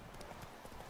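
Hooves of a horse in The Witcher 3 clip-clop in a quick, even trot, a soft rhythmic patter set against a faint game backdrop.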